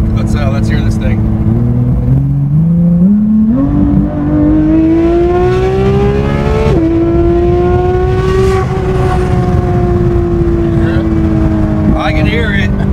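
A loud Porsche 911 GT3 RS engine revs steadily, rising in pitch through gear changes, close and dominant throughout with a rough, powerful roar.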